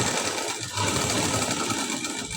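A sewing machine stitches a high-neck blouse with a steady, close, continuous mechanical whir that holds at an even pace throughout.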